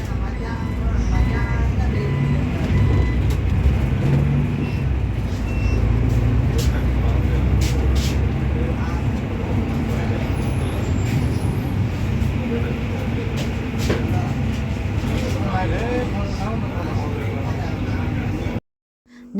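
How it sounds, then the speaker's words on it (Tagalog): City bus interior in Kuwait City traffic: a constant low engine drone and road rumble with occasional faint clicks and rattles, steady throughout before cutting off abruptly at the end. "Nakasakay na ako dyan ng bus. Kaso ma-traffic lang."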